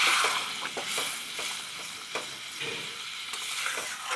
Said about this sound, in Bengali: সেই গরম জলটা দিয়ে নাড়া দিয়ে ফুটতে দেবে